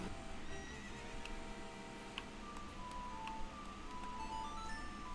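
Epona the horse neighing in The Legend of Zelda: Ocarina of Time, a whinny over steady game background music, with hoof clip-clops mixed in.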